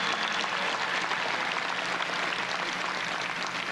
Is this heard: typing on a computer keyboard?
no